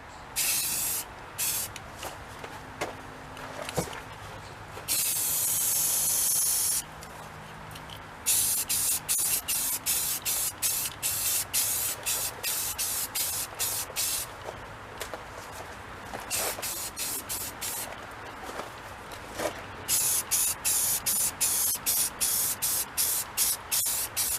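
A spray can lays a coat of white paint on a small part from a mini Harley motorcycle, in loud close hissing bursts. Some bursts are long and sustained, and a run of short rapid ones follows, with quiet gaps between.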